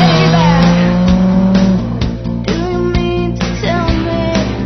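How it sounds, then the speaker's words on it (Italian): A Jaguar F-Type Coupe drives hard, its engine note rising and dropping through revs, with brief tire squeals and sharp shifts. The sound is loud and close throughout. "La Jag freme lievemente e sembra esprimere entusiasmo nell'assecondare le esigenze del proprio pilota."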